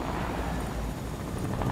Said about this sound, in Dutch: dan landt een heli bij mij!